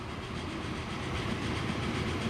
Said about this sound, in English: I know where my train is. There it is.